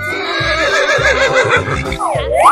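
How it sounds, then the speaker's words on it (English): A cartoon horse whinnies loudly over a bright children's music backing, the neigh's pitch falling and rising near the end of a short burst. "Horse."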